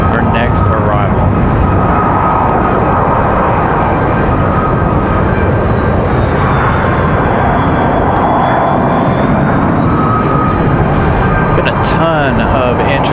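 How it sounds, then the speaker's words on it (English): A Southwest jet from Fort Lauderdale arrives at Raleigh-Durham on a windy day, its loud continuous engine roar filling the scene close by, with a voice talking over it at times. "Southwest from Fort Lauderdale, our next arrival."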